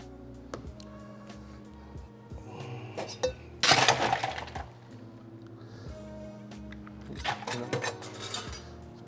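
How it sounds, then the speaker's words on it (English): Cocktail ingredients stirred over plenty of ice with apple brandy and wheat whiskey, giving bright glassy clinks and rattles that swell into a loud burst midway, then return as lighter clinking near the end. "Give that a quick stir and dilute that sugar down."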